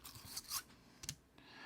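A cleaning brush is pushed through the barrel of a Glock 17 pistol, making a few faint, short scratchy rubbing strokes spaced apart in a quiet room.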